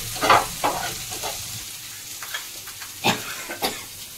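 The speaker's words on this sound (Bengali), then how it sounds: "মশলাটা ভাজা হয়ে যাচ্ছে, এখন তেল ছেড়ে দিচ্ছে দেখুন।" Spice paste fries in hot oil, a steady soft sizzle broken by irregular scraping stirs, close and moderately loud with no talking.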